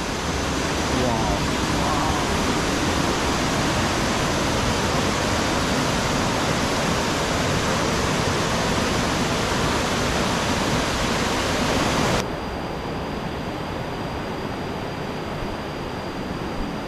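Clear water pours down a waterfall in a Chanthaburi jungle forest, a loud, continuous broadband rush that stays steady throughout and drops slightly in level near the end.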